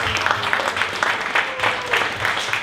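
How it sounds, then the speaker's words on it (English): Audience applause at a small 1 Million Cups Dallas startup meetup, a short burst of steady clapping from a modest crowd with light textured hand claps throughout. "So let's give them a round of applause."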